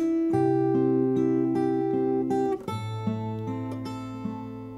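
Fingerstyle acoustic guitar plays the verse of a song, with a steady stream of plucked, ringing notes over sustained bass, alone and close with no talking.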